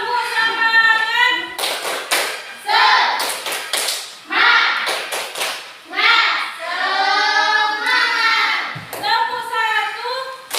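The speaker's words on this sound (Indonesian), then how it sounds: "Tepuk semangat dulu lah, biar semangat semuanya ya." A primary class in an Indonesian school performs the tepuk semangat clapping chant: sharp, rhythmic bursts of hand claps in groups, alternating with children's voices chanting loudly together close by.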